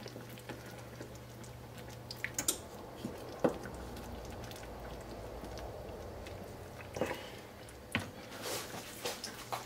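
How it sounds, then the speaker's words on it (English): Spices, chili powder, turmeric and garam masala, get stirred into a simmering spinach and cheese curry in a pan, with soft squishy wet sloshing, gentle sizzle and occasional spoon clinks, quiet and close. "Let's stir that in."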